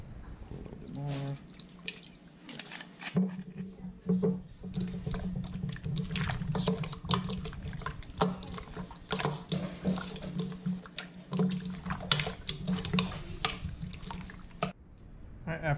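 Water poured over raw goat meat in a bowl during rinsing, a continuous splashing and dripping trickle with wet squishes, fairly close, steady through the whole stretch.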